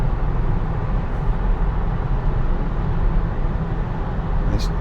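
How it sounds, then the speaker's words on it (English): Loud, steady road and engine rumble from a truck passes close beside a car driving on a road, a continuous low roar throughout with no talking. "Unnecessary noise from that truck."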